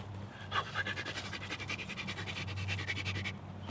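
A dog pants steadily and rapidly close by, each breath a rhythmic rasp, with a low steady hum running underneath and no voices.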